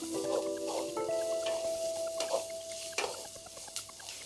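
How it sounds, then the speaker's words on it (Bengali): Chopped ginger and green chilli stirred in hot oil in a pan, a soft sizzle with light scraping and clinks of a spoon against the metal, no voices. "এবারে আদা কাঁচা লঙ্কা কুচিও দিয়ে দিলাম। এগুলো একটু নেড়ে নিতে হবে।"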